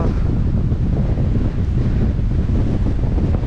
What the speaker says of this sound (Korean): 아, 뭐 바람 때문에 말을 못 하겠네.